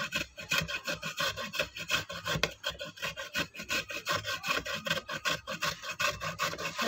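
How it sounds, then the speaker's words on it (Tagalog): Sweet potato is rubbed over a coarse grater with large holes, giving close, rhythmic scraping strokes in a steady back-and-forth pattern of rough rasps, with no voices. "Kasi malalaki yung butas ng ating grater."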